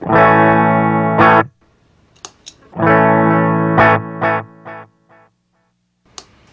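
Sustained electric guitar chords through a compact digital delay pedal, echoing repeats growing brighter as they decay, plus a few brief picked notes and clicks between them, then near silence.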